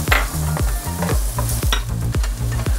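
Carrots dropped into a pan of frying cabbage and garlic, a busy sizzle broken by repeated scraping, tossing strokes of the spatula in a quick, uneven rhythm, close and loud.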